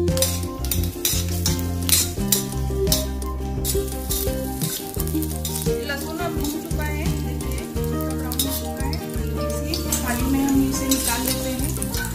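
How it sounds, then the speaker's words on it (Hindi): Steady, crackling sizzle of garlic frying in hot oil until brown, with occasional scrapes of a utensil stirring in the pan throughout. "इस लहसुन को फ्राई करेंगे हम, इसमें ब्राउन होने तक फ्राई करना"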